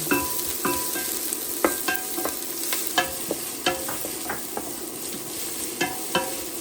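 Chopped onion frying in oil in a pot, a steady sizzle broken by sharp scrapes and clinks of stirring at irregular intervals, close and fairly loud, with no voices.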